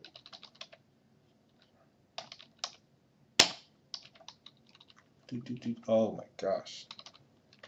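Bursts of computer keyboard typing with rapid key clicks, one sharp loud snap, and a person talking briefly between the keystrokes.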